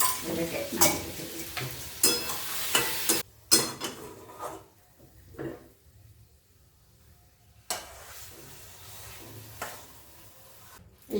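Lau posto, bottle gourd cooked with poppy seed paste in oil, sizzling in a pan while a spoon stirs and scrapes in irregular bursts, with quieter stretches between strokes and no talk.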